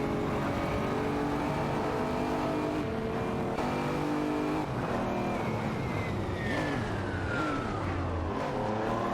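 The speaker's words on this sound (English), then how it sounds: "It's a heated battle for P8 between Zygo 22 and Surianbot in a Chevrolet Corvette C4ZR1 and Waldy in a Dodge Viper GTS ACR 99." Several racing cars in an AI-driven racing video game, including a Chevrolet Corvette C4 ZR1 and Dodge Viper GTS ACR 99s, battle with layered engine drones and shifting revs that rise and fall steadily throughout.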